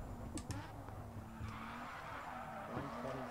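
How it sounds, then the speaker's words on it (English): Tires skid and squeal continuously while a race car engine drones steadily underneath in the racing game Grid 2, a sustained, fairly loud smear of rubber and motor with no clear pauses. "God, this sounds such a weird car."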